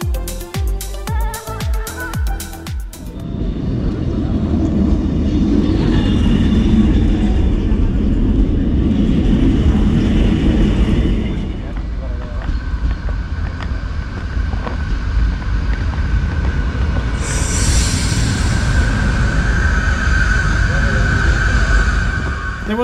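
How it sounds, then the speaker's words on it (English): RENFE train pulling into Sant Vicenç de Calders station, a loud rumbling roar with wind buffeting that builds and holds for many seconds, ending in a high squeal of brakes, after a few seconds of ambient platform noise. "Here we can see the train arriving at Sant Vicenç de Calders."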